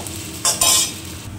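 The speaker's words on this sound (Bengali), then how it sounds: "পেঁয়াজটা ভাজা হতে থাক" Onion with crushed garlic fries in a pan. A soft sizzle is broken by two quick loud stirring hisses as the pieces are tossed in the hot oil, and no voice is heard.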